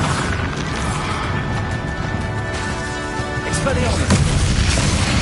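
Bombarda explosive spell cast in Hogwarts Legacy during a battle with Ranrock, a loud sustained booming blast with a sharp crash near the end, amid other combat noise and a voice.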